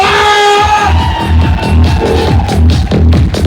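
An indoor audience loudly cheers and whoops for two honoured mentors, a dense roar of many voices with rhythmic low thumps running through it.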